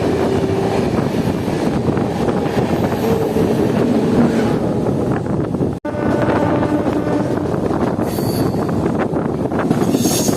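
The AC Duronto Express, bound from Howrah to Mumbai, runs toward Howrah Junction with a loud, continuous rumble of wheels and wind roar. A brief dropout comes midway, and no one speaks.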